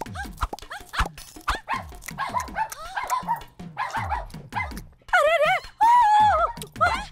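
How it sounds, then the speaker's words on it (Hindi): A dog barks and whimpers in short bursts, close by, with high whining yips toward the end. "उधर कुत्ता भौंक रहा है"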